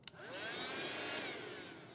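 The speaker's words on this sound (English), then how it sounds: "This is a vacuum cleaner." A vacuum cleaner whirs up after a click, its motor rising in pitch into a steady, close, high-pitched whine that holds for a couple of seconds.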